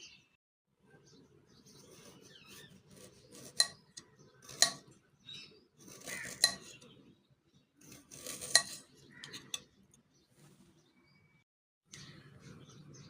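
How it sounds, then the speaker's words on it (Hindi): A kitchen knife chops carrots into slices on a board, giving a series of sharp, close taps at irregular intervals with quiet pauses between them, and a voice speaks softly in the background. "ये तमाम गाजर को इसी तरह से स्लाइस कर लेते हैं।"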